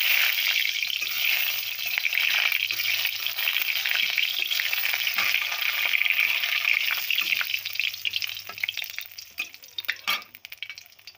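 Dry red chilies frying in oil for posto potol, a steady close hiss and sizzle with occasional stirring clatter that gets more broken near the end, with no talking.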